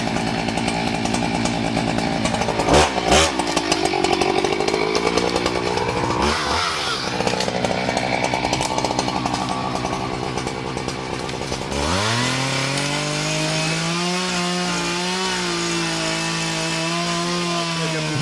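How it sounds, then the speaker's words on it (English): A Husqvarna 395 XPG chainsaw with a long 90 cm bar cuts into a huge old tree, its engine roaring close and loud, surging between revs before settling into a steady high whine. "395 XPG chainsaw."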